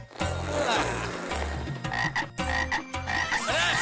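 Loud, dense chorus of frogs croaking in rapid overlapping bursts, close by and continuous, with no talking, in an animated Hindi children's cartoon.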